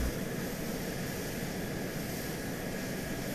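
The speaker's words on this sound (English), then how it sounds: "It was an aircraft." Steady aircraft engine drone from a plane flying overhead in the military game ARMA 2, a continuous broadband roar holding level for the whole stretch with no voices.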